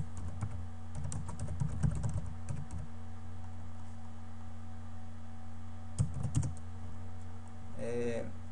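Quiet bursts of typing on a computer keyboard while logging in to a MySQL database manager, brief clusters of light key clicks separated by pauses, close and soft over a steady background hum.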